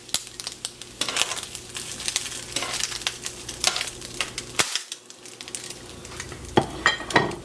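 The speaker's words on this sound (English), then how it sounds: "Alright, we've got our octopus seared nicely. So we're just going to remove them from the pan." Seared octopus sizzles in a hot pan while metal utensils clink and scrape against it, with sharp knocks coming in bursts over a steady frying hiss.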